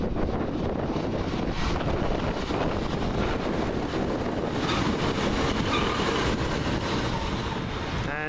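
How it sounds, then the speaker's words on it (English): A Northern Rail train passes through Salford Central station with a loud, steady rumble and roar throughout, accompanied by heavy wind buffeting on the microphone. "Train in the 12:03 Northern Rail service from Liverpool Gate to Manchester"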